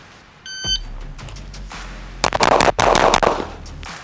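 Six quick pistol shots from a compact everyday-carry handgun on a shooting range, sharp loud cracks fired in rapid succession after a brief electronic beep.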